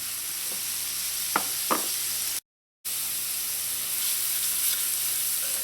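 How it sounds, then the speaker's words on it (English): Garlic and ginger sautéing in a pan give a steady, close sizzle with a few faint stirring knocks; the sizzle cuts out briefly partway through, then resumes. "Ginger. And just let this saute a little. Do not burn your garlic."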